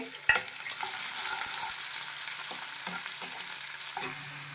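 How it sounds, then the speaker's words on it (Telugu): Urad dal, chopped onion and green chillies frying in hot oil with cumin, a faint steady sizzle with a few scattered stirring scrapes and taps of the spoon against the pan. "కొంచెం మినపప్పు వేశాను వేయించేసుకుందాం చక్కగా ఉల్లిపాయ రెండు చిన్న పచ్చిమిరపకాయలు వేస్తున్నానండి"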